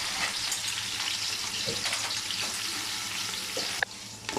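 Onions and green chillies frying in a pan on a home stove, a loud close sizzle with stirring scrapes and a sharp clatter near the end, no voices.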